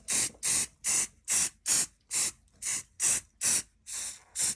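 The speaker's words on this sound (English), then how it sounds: "any type of spray glue will do" Spray glue adhesive being sprayed onto model railway base scenery in short repeated bursts, about ten loud hissing sprays in a steady rhythm with brief pauses between them.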